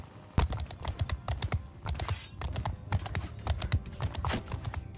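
Horse hooves clattering in a rapid galloping clip-clop in the medieval battle game Bannerlord, a dense run of sharp hoofbeats with background battle din, no talk.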